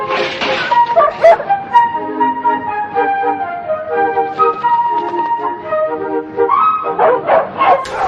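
A pack of dogs bark, yip and whimper in a scene from the 1968 film Chitty Chitty Bang Bang, with overlapping close barks over a bright, sustained whistle tone.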